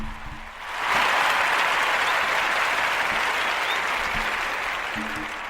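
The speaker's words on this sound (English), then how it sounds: "We got to give a round of applause and shout out to Debrat and Judy" Talk show audience bursts into sustained applause after a brief pause, a loud, even wash of many hands clapping that eases slightly near the end.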